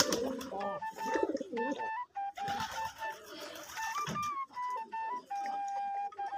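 Pigeons at a clay water pot, one guarding it from the others, giving a run of soft cooing calls with short tonal notes and some scuffling, close and fairly loud with brief pauses and no talk.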